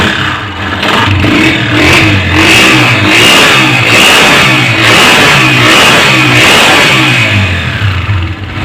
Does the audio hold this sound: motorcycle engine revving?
yes